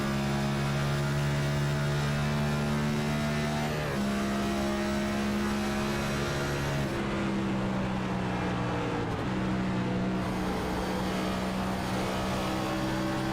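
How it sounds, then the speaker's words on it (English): A race car engine in a racing video game at Homestead Speedway, revving as the throttle is cycled on and off; a steady droning note shifts pitch in several steps, drops and climbs again, with no voices. "You can hear Chuck on and off that throttle."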